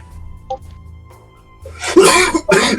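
A person sneezes suddenly during a tabletop role-playing game session, a sharp, loud burst followed by a second explosive sneeze, with quiet room sounds before it.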